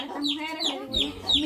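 A small chick peeps in a rural farmyard setting, giving about four short, high, rising chirps in quick succession, close and clear over a steady low background murmur.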